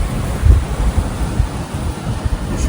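Wind gusts along an ocean beach on a cloudy day just after Hurricane Imelda, a loud, close, broadband rumble buffeting the microphone with no voices.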